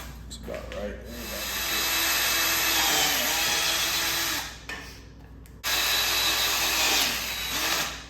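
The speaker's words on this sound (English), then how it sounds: "Now we have it shaped, I'm going to drill some holes." A power drill boring holes into a homemade limb-mounted bow quiver, a steady close whine that runs for several seconds, cuts out briefly, then resumes at full strength, with no talking.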